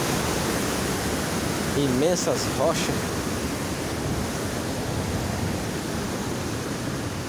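A river cascade's second waterfall drop roars as a constant, loud broadband rush, with a brief voice speaking over it.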